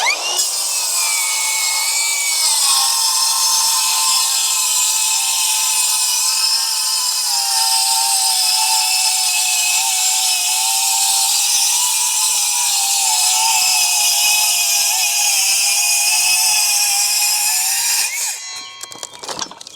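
A Milwaukee Gen 2 rear handle circular saw, model 2930-21HD, rips through wood with a loud, steady whining cut that holds for about eighteen seconds before winding down.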